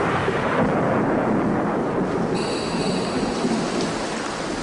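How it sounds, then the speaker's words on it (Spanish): Heavy thunderstorm over the dry Meratus forest of Borneo: dense, steady rain hisses loudly throughout with a low rumble of thunder underneath, no voices. "La tormenta es una bendición para el bosque seco de Meratus."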